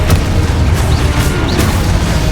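A Confringo spell explosion in the Hogwarts Legacy video game: a dull, booming blast with a rumbling low end, followed by a couple of short bursts, heard up close and loud with no talking.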